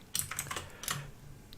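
Quick bursts of key presses on a computer keyboard, a cluster of crisp clicks followed by a short pause and another few taps, close and fairly quiet.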